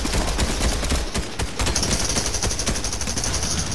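Rapid bursts of SMG fire in a video game shootout, loud and close, a dense stream of shots with a brief pause near the middle before the rattling resumes, with no talking.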